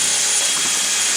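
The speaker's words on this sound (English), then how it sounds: "This is my chimney sweep, but it's working quite well on the end of the drill" A chimney sweep brush spins on the end of a drill during work on a BMC engine, giving a steady, loud broadband whir with scraping texture and no voices.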